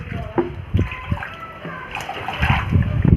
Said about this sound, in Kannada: ಇವಾಗ ಕ್ಲೀನ್ ವಾಟರ್ ಹಾಕ್ತಾಯಿದ್ದೀನಿ